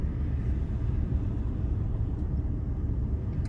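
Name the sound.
road traffic entering Kentucky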